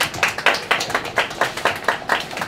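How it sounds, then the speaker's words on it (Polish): Audience applause for prize winners at a harvest festival in Rogów, with rhythmic, fairly close clapping that swells in regular bursts throughout. "Głośny aplauz."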